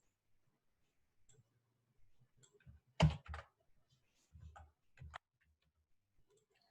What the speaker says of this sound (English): So you just type in the password.